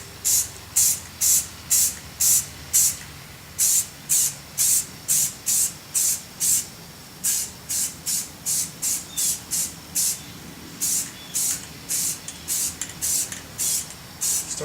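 Short bursts of black spray paint hiss from an aerosol can onto an air mover, about two dozen evenly paced sprays, close and fairly loud, with no talking.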